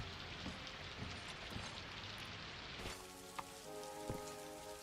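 Steady rain pours in the Daggerfall Unity video game, a dense hiss throughout, loud and close, with a few sharper drip-like taps and a shift in tone partway through as the setting changes.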